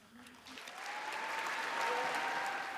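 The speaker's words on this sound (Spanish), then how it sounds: "Una ovación a las inquietantes palabras del presidente" Audience ovation following a president's speech on weapons and money for Ukraine, a swelling wave of applause that builds from a lighter start into sustained, dense clapping, with a faint tone running beneath.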